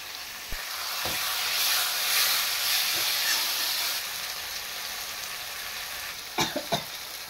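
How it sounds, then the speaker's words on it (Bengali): Fish sizzles loudly in hot oil for a mixed fish curry with morola, puthi and prawns, a continuous close crackling hiss broken by a few short knocks and clatters. "এবার তেলে ছেড়ে দেওয়া হবে মাছগুলো।"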